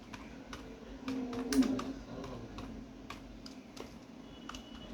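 Quiet, irregular keystroke clicks on a computer keyboard while a short review is typed, with a few brief bursts of taps and faint background noise.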